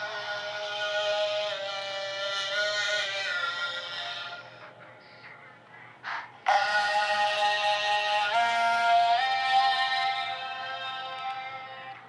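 A pitched-down, auto-tuned vocal counter melody sounds alone, sustained and tonal, with a short dip and break near the middle before it returns at full level.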